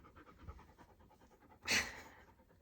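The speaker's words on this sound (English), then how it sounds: "When he's like panting a ton, it worries me a little bit" A dog pants quietly in quick, steady breaths nearby, with one louder, sharper huff partway through.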